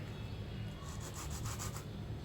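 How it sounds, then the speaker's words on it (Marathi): Cheese rubbed or grated onto a hot grilled cheese sandwich, a steady soft scraping texture running throughout at close range with no talking. "हे याच्यावर हे चीज असं घासून घेते मी"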